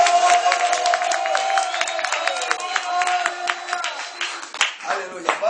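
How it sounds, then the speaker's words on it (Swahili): A church congregation claps rhythmically in praise, a lively run of many hands clapping amid crowd voices and singing-like cheering. "Turudi tumpigie Bwana Yesu makofi."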